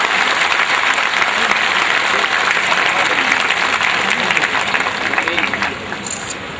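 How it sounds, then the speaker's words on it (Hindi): A large crowd at a political rally in Balrampur, Uttar Pradesh, breaks into dense, loud applause that stays steady for several seconds and eases off at the end. "जोरदार ताली से इस्तेमाल कीजिए शेख साहब का।"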